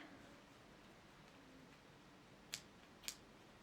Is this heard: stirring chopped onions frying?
no